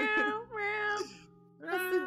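A person imitates a cat, voicing three drawn-out, nasal meows in a row, close and fairly loud, with a short pause before the last one.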